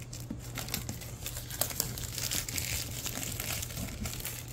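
Plastic shrink wrap crinkles and tears off a large Monster Hunter World board game box, a steady close run of crackling and ripping with no talk.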